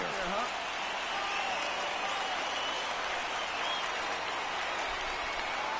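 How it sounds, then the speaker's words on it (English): A baseball video game crowd in MLB The Show 19 roars during a full count, a broad, steady wash of cheering and applause that stays even throughout, with a faint whistle-like tone near the start. "Crowd gets up for the 3-2."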